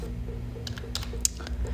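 Someone types a name on a computer keyboard, producing a quick run of light, close key clicks with one sharper tap, over a low steady background hum.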